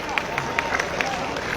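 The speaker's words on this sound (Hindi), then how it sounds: "तो एक बार उनके लिए भी जोरदार तालियां।" Crowd applause for the Chief Minister at a state-level village event in Haryana, a steady, dense clapping with scattered sharper claps and background murmur, moderately loud throughout.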